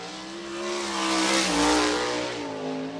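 USAC national sprint car roaring through the final turn at Ocala Speedway, a loud sustained engine howl with shifting pitch that swells to a peak near the middle and stays strong, close to the track with no talk.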